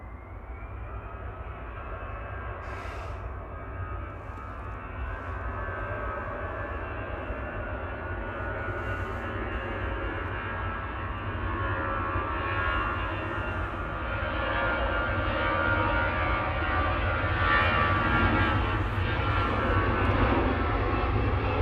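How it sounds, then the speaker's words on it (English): EasyJet Airbus A320 G-ZWL at Manchester Airport gives a continuous, close jet roar that builds gradually and grows louder toward the end, heard alone without talk. "This is GZWL A320 Classic."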